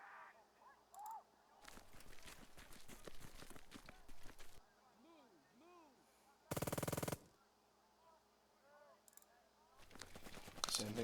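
Machine gun fire in the WWII tactics game Burden of Command, a broad noisy burst around the middle with scattered shorter gunshot bursts before and after, over a steady battlefield ambience with a voice talking intermittently.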